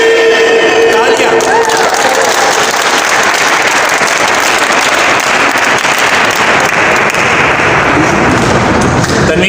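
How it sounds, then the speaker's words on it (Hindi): Loud, dense applause from a large crowd, sustained throughout with a steady roar of clapping and some cheering mixed in. "तालियां।"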